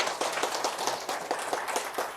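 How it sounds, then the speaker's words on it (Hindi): An audience at a speech event claps together in a brisk, steady patter of overlapping hand claps, moderately loud and close, with no voices over it. "जोरदार तालियां एक बार"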